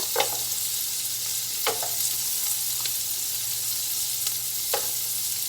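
Carrots and celery sauté in a pan for a keto tuna casserole, a steady close sizzle with a few soft stirring scrapes at intervals.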